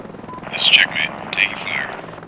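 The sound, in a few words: helicopter flying in a video game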